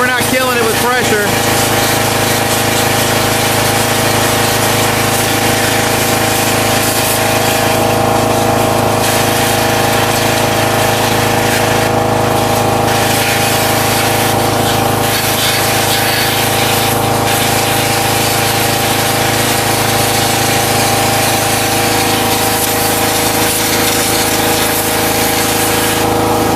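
Pressure washer at about 2,000 psi spraying down a Chevrolet Cavalier engine, a loud continuous hiss over a steady pump-motor drone, running unbroken throughout with brief dips in the spray.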